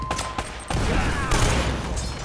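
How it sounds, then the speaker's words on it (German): A grenade and a barrel explode in the video game Uncharted: Drake's Fortune: sharp crackling gunfire, then a loud sustained blast with a rumbling tail and a second burst. "Granate explodiert, Fass explodiert."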